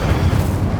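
A fire spell cast in Hogwarts Legacy gives a steady, loud low-end boom and rumble that holds for under a second with no break.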